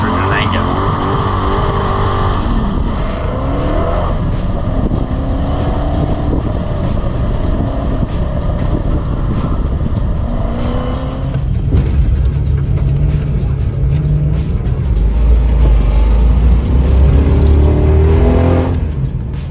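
Australian muscle cars, Bathurst GTHO Falcons and VL Walkinshaw Group A Commodores, rev and roar on an Adelaide Hills charity run, with loud engines accelerating and passing continuously while a voice talks over them.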